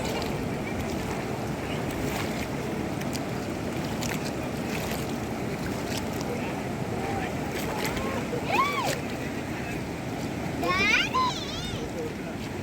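Continuous rushing flow of river water with wind noise, steady and full, with a few faint voices in the background.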